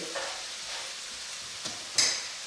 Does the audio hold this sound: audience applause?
no